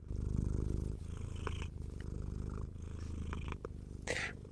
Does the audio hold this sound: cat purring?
yes